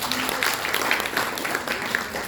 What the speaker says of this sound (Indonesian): Tepuk tangan lagi buat prudensial.